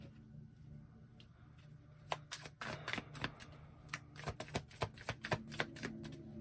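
Tarot cards riffled and shuffled in rapid crisp bursts of paper slaps, close and fairly quiet, with a low background hum and no talking.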